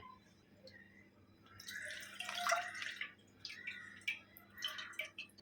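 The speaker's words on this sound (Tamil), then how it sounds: "வாட்டர் சேர்த்துக்கலாம்" Water is poured into full cream milk in a pot while making rose milk. Quiet, close splashing and trickling comes in uneven bursts over a faint background hum, with no talking.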